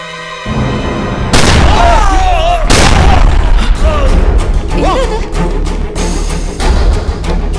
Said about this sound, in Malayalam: ഇവൻ സതീഷിന് വെടിവെച്ചു.